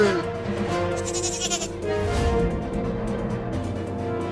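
Cartoon goat kid bleating repeatedly in a wavering, nasal cry, fairly close and loud, with a busy musical or effects bed beneath and no clear talk over it.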